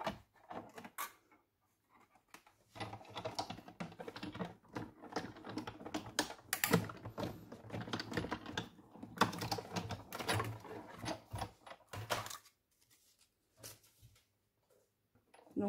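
A large paper punch cuts patterned paper, giving quiet clicks, clacks and thumps in irregular bursts separated by short pauses, with no talking.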